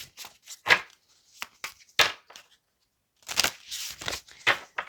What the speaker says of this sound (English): feel free to fast forward past all the shuffling.